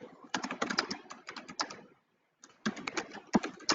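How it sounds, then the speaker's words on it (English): Rapid keystrokes on a computer keyboard come in quick bursts of clicks, pausing briefly midway before the typing resumes, faint and close. "I hear some typing."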